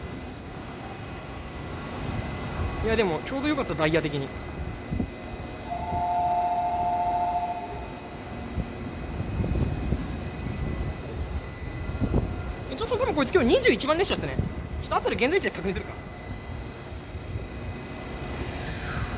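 A Kiki & Lala themed monorail train arrives at a station, its motor hum and running rumble rising mid-clip, while someone speaks nearby at the start and again toward the end.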